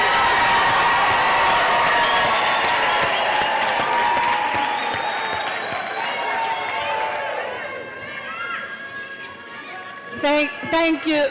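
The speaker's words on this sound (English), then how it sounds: "Thank you for the round of applause" An audience at a university graduation ceremony claps and cheers, with whoops and lively crowd noise that gradually thins, then a voice and tones break through at the end.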